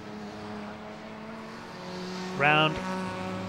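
A saloon racing car from the Blue Oval Saloon Series at a 2021 BARC race approaches the finish line. A brief rising engine note cuts through a steady background roar while a commentator talks.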